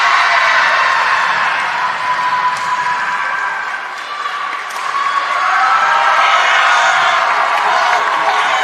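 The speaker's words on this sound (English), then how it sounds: "Taryn Lawrence drawing more than a few applause here." A crowd at a Mountain East final acrobatics and tumbling meet between Fairmont State and Glenville State applauds and cheers steadily, with whoops and shouts rising near the end after a routine finishes.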